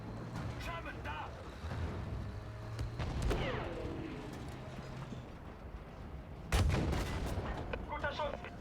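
Tank cannon and gunfire in a World War II video game, several sharp booms and a heavy blast over a low engine rumble, with voices shouting in German through the action.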